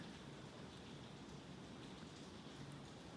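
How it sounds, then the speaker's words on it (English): Steady rain falls in an outdoor garden among sunflowers and planters, a dense, even hiss of drops with no pauses or voices. "It's raining, isn't it?"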